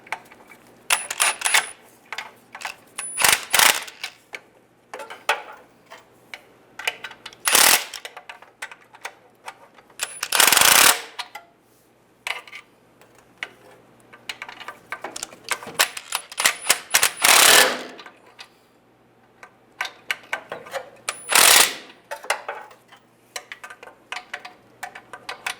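Socket ratchet clicks in quick bursts while tightening bolts on a 2007-2013 Chevrolet Silverado's transmission dipstick tube, close and crisp, with sharp metal clanks and pauses between each bolt.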